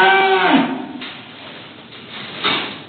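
A cow moos loudly and close by, a drawn-out low call in the first half-second, followed by quieter rustling and another brief vocal burst.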